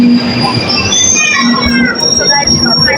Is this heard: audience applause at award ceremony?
no